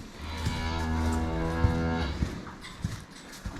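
A dairy cow moos in a barn on a small dairy farm, one long, loud, drawn-out low call followed by quieter barn shuffling.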